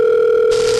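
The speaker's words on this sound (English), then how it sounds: "Hey there, sorry for the late phone call." Steady electronic telephone tone from the Five Nights at Wario's 3 video game, a loud continuous pitched drone that suddenly gains a hissy, brighter layer halfway through, with no voices.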